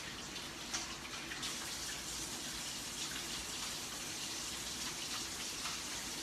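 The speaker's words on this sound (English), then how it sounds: "Wash my hands really thoroughly." Hands rinsed thoroughly under a kitchen tap during food prep, a steady, unbroken rush of running water, close and even throughout with no talking.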